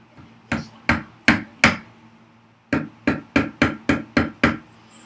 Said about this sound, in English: let's chisel this one little edge on the inside